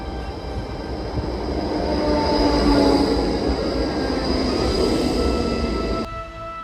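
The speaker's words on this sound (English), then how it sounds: "the main transportation here being bicycles and trams." A tram rolls past on a street in Ghent, Belgium, its steady rumble and rail squeal swelling to a loud peak and holding before cutting off abruptly near the end.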